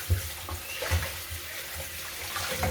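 Cold tap water runs steadily into a sink while raw chicken is rinsed, with soft splashes and a few louder spatters as the meat is handled.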